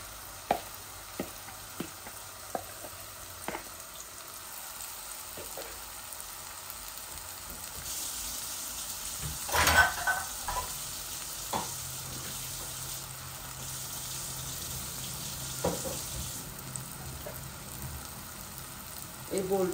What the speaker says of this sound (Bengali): এখন আমি চিকেনটা দিয়ে দিলাম। চিকেন আর আলু একসাথে বুনা বুনা করে অল্প একটু ঝোল দিব।